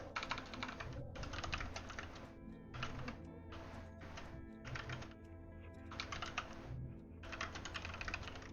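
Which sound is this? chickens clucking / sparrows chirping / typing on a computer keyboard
typing on a computer keyboard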